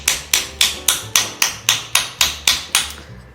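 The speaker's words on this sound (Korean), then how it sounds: "망치로 쳐줍니다" A hammer strikes a coiled wire ring while it is shaped on a jewelry-making kit, giving about eleven sharp metallic taps in an even, steady rhythm. Each tap rings briefly and is close and loud, with no talk.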